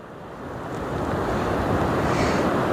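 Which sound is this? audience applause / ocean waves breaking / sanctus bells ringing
ocean waves breaking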